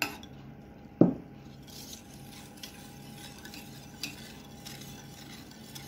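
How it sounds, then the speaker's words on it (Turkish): A spoon or whisk stirring cake batter in a bowl just after sugar is added, starting with one sharp clink against the bowl, then soft, continuous scraping and light taps, close up with no talking. "Toz şekerimizi ekliyoruz. Yine önden bir karıştırmaya devam ediyoruz."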